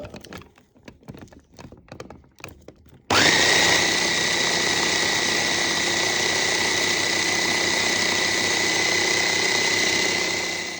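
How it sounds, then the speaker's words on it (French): Kitchen blender running while making tomato tartare with olive oil, a loud steady whir starting abruptly after some clatter and continuing unbroken, slightly easing near the end. "Et notre mixeur qui fait encore des siennes."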